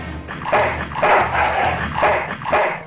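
Four or five sharp barks from a dog in the video game Full Throttle Remastered, spaced about half a second apart, close and clear with no talk over them.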